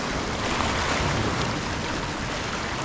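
Waves washing against the shore at a shore-casting fishing spot, a continuous loud rushing wash with wind buffeting the microphone, no voices.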